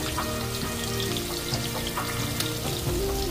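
Sliced onions frying in hot oil for chicken biryani, a steady dense sizzle and crackle that stays loud and close throughout without any talking.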